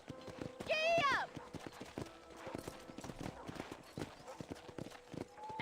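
Rhythmic clip-clop of horse hooves trotting steadily at a ranch in the game Red Dead Redemption, with a sharp whinny early on and game-style sound effects around it.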